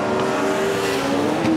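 Custom-built, handmade race car with a motorcycle engine, its engine drone loud and steady throughout with a brief rise near the end, no talk over it.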